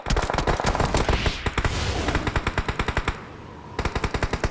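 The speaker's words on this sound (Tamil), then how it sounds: "ஒருத்தன் என்ன சுட்டு இருக்கான்" Rapid machine-gun bursts ring out in a shooter video game, dense close volleys of shots with a short pause around the third second before another quick string of rounds.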